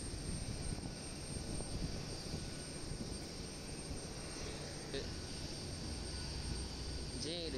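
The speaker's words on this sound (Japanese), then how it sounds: "しっかりとエンジンが全て起動するのはここで本番、そういうことになります" Jet engines of a JAL airliner spinning up at Itami Airport, a broad continuous roar with rising whine, heard from a distance amid airport ambience.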